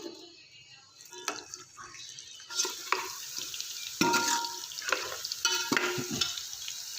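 Sliced onions hitting hot oil in a pot, a steady close sizzle broken by stirring scrapes and clatter, rising in intensity as the onions fry.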